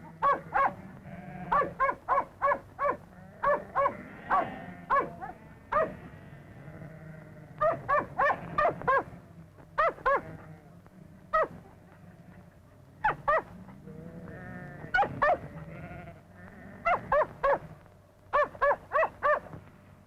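Sheep being mustered on a New Zealand coastal station bleat again and again in short clustered bursts, several animals calling over a low steady background.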